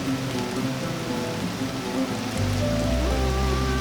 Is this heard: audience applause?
no